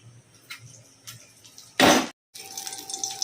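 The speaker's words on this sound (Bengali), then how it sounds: "তারপর এমনি ভালো জল দিয়ে ভিজিয়ে রাখবো একটু এবারে ডালটা ভিজিয়ে রাখবো" Water poured into a bowl to soak lentils, one short loud gush after soft clinks, cutting off abruptly, then a faint tap-like trickle.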